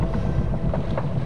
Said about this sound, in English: it's storming pretty good